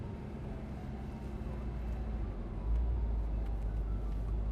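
A convertible supercar cruising with its top down, giving a steady low engine and road rumble with wind noise that swells louder about halfway through, with no talking.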